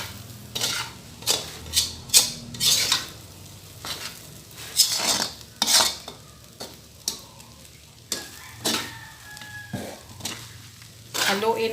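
Fried rice with corned beef and hotdog being stirred in a pan, with repeated scraping spatula strokes and clinks over a steady sizzle, close and fairly loud in uneven bursts.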